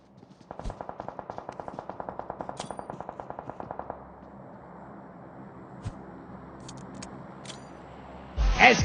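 Automatic weapon fire in PUBG Mobile rattles out in a rapid even burst of about fifteen shots, followed by a few isolated game sounds and a loud blast at the end.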